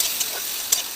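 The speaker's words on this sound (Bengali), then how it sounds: "টমেটো দিয়ে আর একটু লাড়িয়ে নিলাম" Chopped tomato stirred and fried in hot oil in a pan for egg curry, over onion, crushed garlic and five-spice: a brief, steady sizzle with a couple of quick scraping accents as it is turned.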